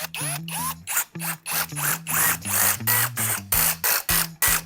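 A screwdriver driving screws through a case fan into a PC water-cooling radiator, loud and close, with rapid ratcheting clicks and squeaky twisting strokes that come in short bursts with brief pauses.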